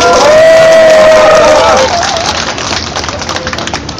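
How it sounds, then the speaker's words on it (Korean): A loud crowd at an outdoor election rally applauds and cheers, with voices shouting over dense clapping that eases slightly after the first couple of seconds. "우리 정태웅 후보님께 다시 한번 큰 격려의 박수를 보내주시면 감사하겠습니다"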